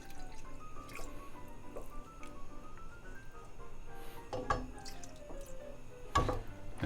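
Water is poured in small amounts into a marinara sauce, heard as faint trickles and drips with a couple of louder splashy plops near the end, quiet and close, with no talking.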